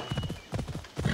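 Horse hooves clip-clopping in Assassin's Creed Odyssey, a quick galloping rhythm of close, muffled thuds in uneven clusters, loud and continuous over the brief stretch.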